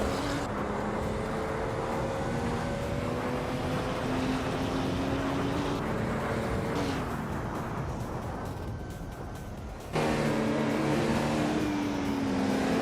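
Retro GT 500 race cars racing in a video game, engines droning loudly and continuously with shifting pitch as cars rev and pass, with a sudden change in engine tone near the end.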